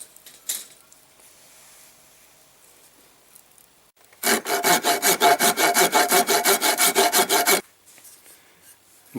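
A hand saw cuts a slot into the wooden handle of a blacksmith-made two-handled froe, a steady run of about fifteen rapid, even strokes, close and loud, after a quiet stretch of faint shop noise.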